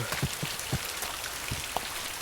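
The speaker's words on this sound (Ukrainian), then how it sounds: "тут дощ, а я не хочу мокнути тут до нитки" Rain in a dark horror video game falls as a steady, even hiss with scattered louder droplet taps, heard alone at moderate level with no talking.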